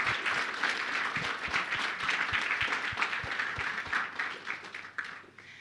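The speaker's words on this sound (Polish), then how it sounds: "nagródźmy Kamilę jeszcze krótkimi oklaskami za debiut" Short burst of applause from a conference audience in Gdańsk, rewarding a presenter's debut talk; steady dense clapping fills the room for several seconds, then thins and fades near the end.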